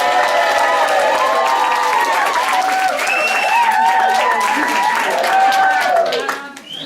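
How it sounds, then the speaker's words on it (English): Wedding guests break into applause and cheering for the groom, a loud crowd with clapping and excited voices and whoops layered on top, fading out near the end. "please have a round of applause for the man of the moment, Rob."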